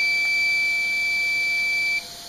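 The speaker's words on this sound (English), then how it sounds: "during the 5 seconds beforehand, the buzzer will go off" An electric buzzer wired to a timer circuit on an Allen Bradley SLC5/02 PLC sounds as one steady, high-pitched continuous tone for about two seconds, then cuts off abruptly. No one speaks.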